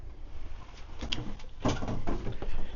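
The bathroom door of a Solace 35 CS RV being opened, a soft latch click followed by a light sliding scrape close by, with a faint hum in the background.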